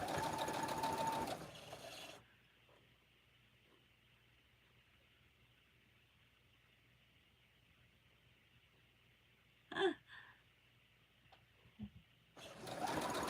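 A domestic sewing machine stitches an Arrowhead quilt block, running in a loud, steady, rapid burst at the start and again at the end, with a quiet stretch between broken by a couple of small knocks.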